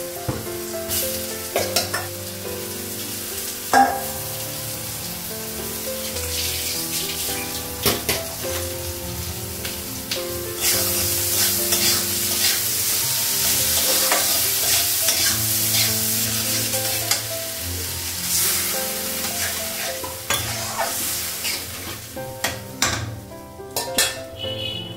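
Potatoes fry together with already-browned onions, turmeric and cumin powder in a pan, sizzling loudly and steadily. A metal spatula stirs and scrapes with frequent clanks against the pan, and the hiss swells in the middle stretch.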